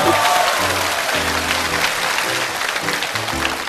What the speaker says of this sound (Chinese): 掌声送给我们9岁的小春天